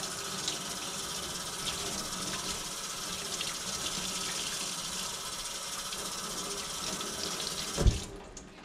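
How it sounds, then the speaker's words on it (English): Felt rinsed under a running sink tap during wet felting, a steady close splash of flowing water for about eight seconds, then a brief louder slosh before the flow stops. "Then your felt, just run it under the water,"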